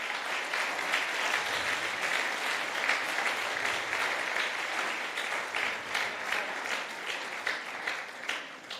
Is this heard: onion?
no